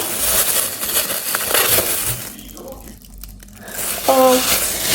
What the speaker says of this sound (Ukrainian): Ковбаску ми пакет вибираємо.